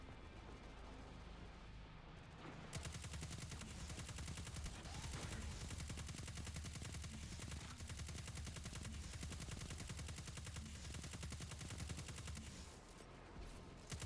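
Sustained automatic machine-gun fire from Cabal enemies in Destiny 2, a loud continuous rattle with dense overlapping shots and booming impacts running for over ten seconds after a quieter opening, with no talk.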